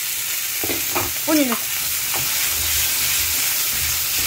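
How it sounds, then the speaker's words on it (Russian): Food frying in a pan on a home stove, a steady close sizzle and hiss running throughout, with a woman's brief spoken question over it early on. "И вот так вот она жарится."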